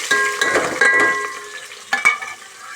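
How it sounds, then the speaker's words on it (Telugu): Chopped onions fry and get stirred in hot oil with cumin seeds in a pan while a lamb trotter curry is being made, giving a bright sizzle broken by scraping stir strokes. "ఉల్లిపాయలు వేసుకొని మంచిగా ఎర్రగా వేయాలి"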